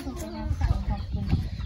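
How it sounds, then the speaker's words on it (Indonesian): Free-range village chickens cluck and murmur close by in short irregular bursts, with a person talking over them. "Oh, ditemani ayam-ayam toh pemirsa. Ditemani ayam."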